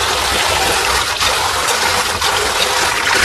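Soaked wheat is washed by hand in water, giving a steady, loud close-up swishing and sloshing with no pauses.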